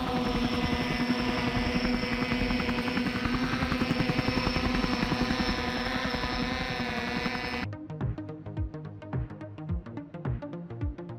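A heavy-lift drone built to carry a person's weight, flown in a night test, gives a loud, steady droning buzz of spinning rotors. After about eight seconds it cuts off abruptly into a run of sharp rhythmic taps.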